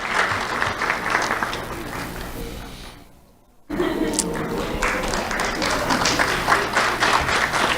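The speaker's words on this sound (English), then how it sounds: "Let's have a round of applause for Annabelle." Audience applause at a sheriff's office community awards ceremony, a broad crowd clapping that fades briefly into near quiet, then swells again and holds steady, with cheering voices mixed in.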